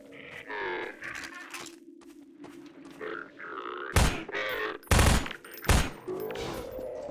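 Submachine gun fire in Half-Life 2 comes in a few loud short bursts near the end, amid game sounds and someone talking.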